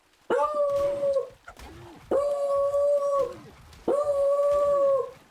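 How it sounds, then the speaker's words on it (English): A dog howls three times in long, sustained wails, each rising sharply and holding a steady pitch before trailing off, with short pauses between them. It sounds fairly close and loud, with no talking. "My dog was going crazy."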